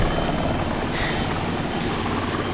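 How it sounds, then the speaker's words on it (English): A Copeland reciprocating compressor runs nearby with a loud, steady broadband roar and a low churning drone that holds constant throughout. "Here's the Copeland reciprocating compressor."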